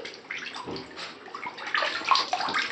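A chihuahua puppy paddles in bathtub water, giving steady close splashing and sloshing with gurgles that swell louder toward the end; no talk is heard.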